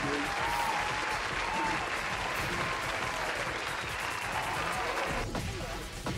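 Canned applause sound effect played during a Tekken 8 fighting-game stream, a sustained wash of clapping and crowd cheer with faint game sounds underneath, fading slightly at the end.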